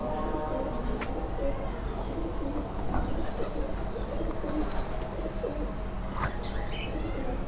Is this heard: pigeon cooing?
yes